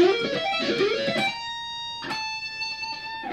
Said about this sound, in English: those last 3 strings create quite a nice sweep picking arpeggio.